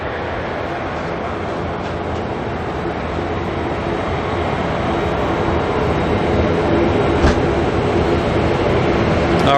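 An Antonov AN124 cargo jet roars in reverse thrust after landing at Auckland Airport, a loud, broad, steady rumble that holds without a break and swells slightly toward the end.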